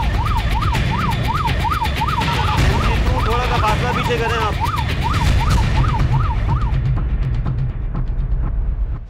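A police mobile patrol vehicle's siren wails loudly and close by in a rapid rising-and-falling cycle for most of the clip, then cuts off, with traffic noise and a voice speaking over it.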